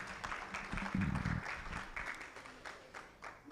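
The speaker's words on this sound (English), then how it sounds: "Please give a round of applause to Professor Nim" Audience applause at a Ghanaian statistics launch event: moderate clapping from a seated crowd, fairly faint and steady, with a brief low hum or voice partway through and the clapping tapering off toward the end.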